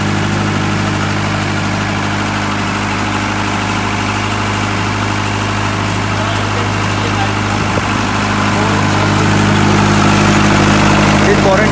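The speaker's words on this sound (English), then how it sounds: "I'll start the generator set and I'll show you." A 62 kVA four-cylinder diesel trolley generator set running steadily, a loud, constant droning hum with a firm low-pitched engine tone and vibration throughout, with faint voices mixed under it.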